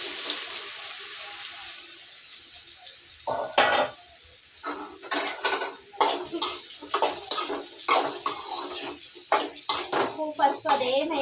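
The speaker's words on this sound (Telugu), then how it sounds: "ఇంకప్పుడైతే అదే నూనెలో కాకరకాయ అయితే వేయించుతున్నాను." Bitter gourd fries in leftover puri oil in a pan over a low flame, a soft steady sizzle broken by repeated close clanks and scrapes of a spatula stirring against the metal.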